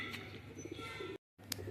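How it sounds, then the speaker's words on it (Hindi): A female pigeon walking on a rooftop gives soft, low cooing murmurs, faint and close, with a brief gap of silence and a small chirp near the end. "अभी आ चुकी है कबूतरी छत पर, और ये घूम रही है।"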